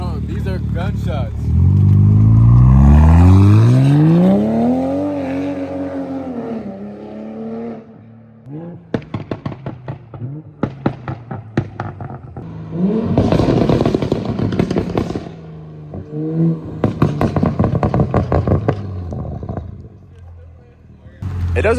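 Toyota MK5 Supra with a maxed-out burble tune, its engine rising through a loud rev, then sharp rapid exhaust pops and bangs crackling in bursts as it passes nearby, with people talking over parts.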